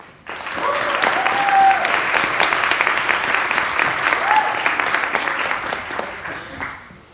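A school chapel audience at St. Andrew's Sewanee School breaks into steady, full applause as a senior speaker is welcomed, sustained for several seconds before tapering off.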